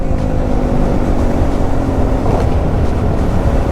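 A KTM Duke 390 motorcycle runs with its engine and exhaust droning steadily under heavy wind rush, a constant loud roar through the whole stretch with no clear voices.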